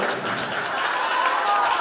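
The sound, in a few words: audience applause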